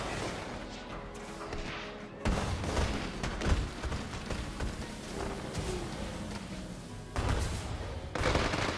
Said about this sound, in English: I think the sounds design on the fireworks sound a lot better now